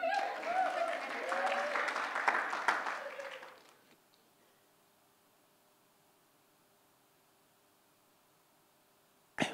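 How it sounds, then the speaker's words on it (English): An audience at a church-style talk claps for about four seconds, a dense burst of applause that quickly fades to near silence, ending with a short loud thump. "Give Shireen a round of applause"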